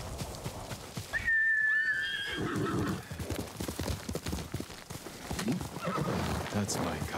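Horse in the video game Ghost of Tsushima gives a sharp, close whinny, followed by rhythmic hoofbeats at a gallop, with a voice speaking over and around the game sounds.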